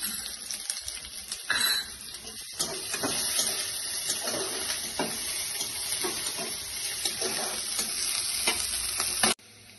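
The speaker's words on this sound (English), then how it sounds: "now I'm adding chopped onions. Just fry it till it turns golden brown" Chopped onions fry in a pan toward golden brown for peas-stuffed pitha, with a steady crackling sizzle and repeated scraping stirs close by, ending with an abrupt cut.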